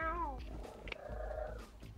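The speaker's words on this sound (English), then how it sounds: "This guy's talking to his fucking cat." A cat purrs and mews over a player's voice chat during a Call of Duty: Black Ops 4 match, a faint, close, wavering cry amid low background noise.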